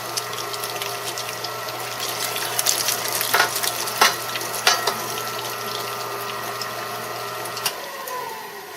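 A meat grinder works through venison with a steady motor hum, wet squelching and clicking bursts as chunks feed through, the whir stopping near the end; no voices.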